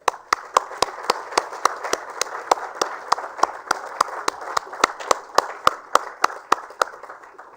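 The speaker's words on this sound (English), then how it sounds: "A big round of applause for District Administration" Audience at an awards ceremony for sanitation clapping in a steady, sharp rhythm of individual hand claps, fairly close and loud, with no talk over it.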